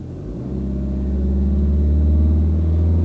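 A car engine in a driving lesson turn-in-the-road, holding a loud, steady low drone that swells slightly as the revs settle while the gas is eased back, with no one talking.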